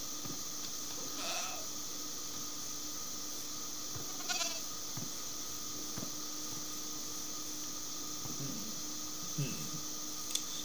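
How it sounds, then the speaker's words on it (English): Screaming goat bleating in Minecraft, a few short cries spread across a steady hum of game ambience, fairly quiet and with no one talking. "Screaming goat."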